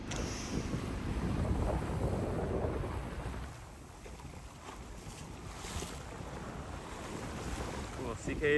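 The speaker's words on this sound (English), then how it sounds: "The waves did get steeper." Steep ocean waves wash around a sailboat on an open-sea passage, with heavy wind buffeting the microphone, a louder surge at first that eases into a steadier rush of water and wind.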